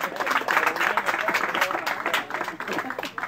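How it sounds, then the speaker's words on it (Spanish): Guests applauding at a quinceañera celebration, a moderately loud stretch of scattered clapping with people talking beneath it. "Fuerte el aplauso, por favor, esta tarde."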